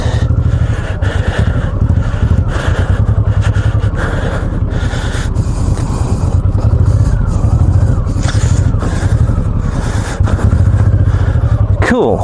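A Honda VTX cruiser motorcycle ridden off-road, its loud engine chugging and revving close up with rattling and scraping over rough ground, a voice talking over it.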